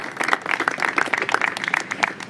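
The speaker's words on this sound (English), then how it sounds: "Now you can applaud." Audience applause after remarks at a mayoral announcement on expanding electric vehicle access, a brief burst of dense, steady clapping from a crowd, fairly loud and close.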